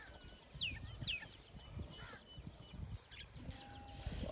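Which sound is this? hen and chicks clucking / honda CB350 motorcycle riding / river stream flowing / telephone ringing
hen and chicks clucking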